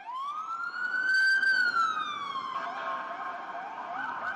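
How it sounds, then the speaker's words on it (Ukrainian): A police car siren wails on a city street, one long loud rising and falling tone held for several seconds, close and clear over faint traffic rumble. "Тишу міських вулиць тут постійно розривають сирени поліцейських машин, що супроводжують броньовані авто високих гостей."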